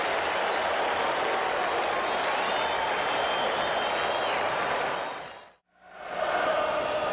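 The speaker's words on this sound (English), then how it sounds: "In right field, the crowd is tormenting Strawberries, singing Darryl, Darryl" Large stadium crowd at a 1986 World Series game between the Boston Red Sox and New York Mets, a dense continuous roar of cheering and chanting filling the air, briefly dipping to near silence before surging back.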